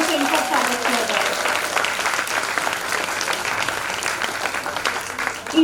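Loud, sustained applause from an audience welcoming a choreographer onto a stage at a dance performance, dense and steady clapping throughout with a brief swell at the very end.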